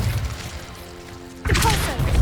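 Incendio fire spell cast in Hogwarts Legacy, a sudden burst of flame with a thudding impact that starts partway through and stays loud to the end, following quiet game ambience.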